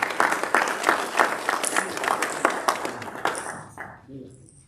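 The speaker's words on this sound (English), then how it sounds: "Ladies and gentlemen, a round of applause for Dr." A round of applause for Dr. Friday Okpara at the launch of a tertiary institutions entrepreneurship scheme: crowd clapping with distinct sharp claps, fading out toward the end as a voice begins.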